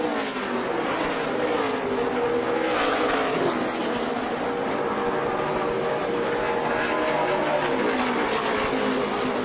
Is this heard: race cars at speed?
yes